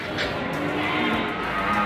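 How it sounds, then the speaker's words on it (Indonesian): Cattle at an animal market in Grabag, Magelang, heard as a low, drawn-out moo over a dense murmur of market crowd noise, with faint voices in the background. "Selain sapi di belakang saya,"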